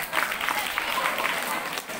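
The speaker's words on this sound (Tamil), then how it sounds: "அனைத்து மாணவர்களும் கைத்தட்டி உற்சாகப்படுத்துங்கள்." Students at a government higher secondary school annual day in Meemisal, Pudukkottai, applaud as a crowd, a dense, steady wash of clapping heard from a distance.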